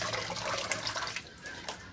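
Water runs steadily from a tap while pig intestines are washed, a continuous splashing hiss with no talk.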